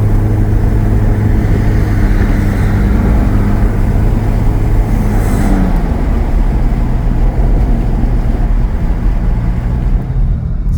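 A 2018 Honda Civic Sport with lowered suspension and custom dual tailpipes speeds up on the road: a loud, steady engine and exhaust drone that holds nearly constant throughout, with a faint road rush underneath.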